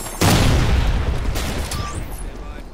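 A frag grenade detonates in the video game Ghost Recon Future Soldier, giving one sudden loud boom with a deep rumbling tail that slowly fades, with faint game sounds behind it.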